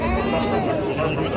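A sheep or goat bleats briefly at a goat market in Indonesia, a short wavering cry mixed with nearby speech and crowd babble.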